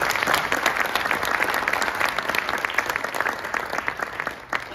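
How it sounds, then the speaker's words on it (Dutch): An audience applauds a percussion ensemble at a contest, with dense, steady clapping throughout that fades slightly toward the end. "Applaus voor deelnemer nummer 5 in de categorie ongestemd slagwerk."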